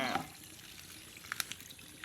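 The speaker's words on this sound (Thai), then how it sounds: "เดี๋ยวเทน้ำบอกนิดนึงเนาะ" A little water is poured into a container to soak freshly dug wild melinjo (phak wan pa) seedlings grown in sand, a short soft splashy pour near the start followed by faint trickles and drips, with a voice nearby.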